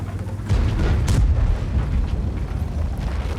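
A tank's main gun fires in World of Tanks, a single deep, booming blast with a rumbling tail fading over a low, steady background.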